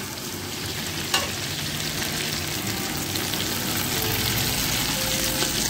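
Green rice ingredients with ginger paste roasting in a pan give a steady, close frying sizzle with stirring scrapes and one sharp tap near the start.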